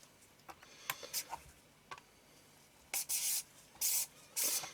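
Front ring being screwed onto a Canon EF 180mm macro lens: faint small clicks and ticks, then several short scraping rubs of threads turning, close and quiet with no talking.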